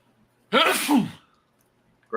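A single loud, close human sneeze bursts out after a quiet pause, a sharp intake followed by a forceful explosive exhale, then silence before another sound begins.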